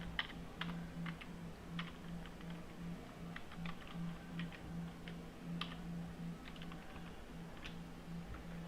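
Keys clattering on a computer keyboard while entering a MATLAB function to convert equation roots to decimal form, quiet irregular taps in short bursts over a steady low hum.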